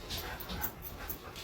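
A dog pants and whimpers softly nearby in a short, steady stretch of breathy, high whines.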